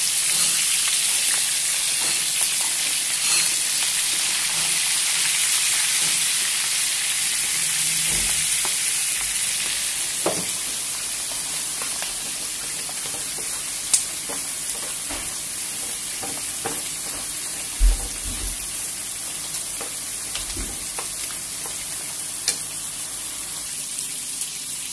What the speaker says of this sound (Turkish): Burada da tekerlekli biberlerimiz kızarıyor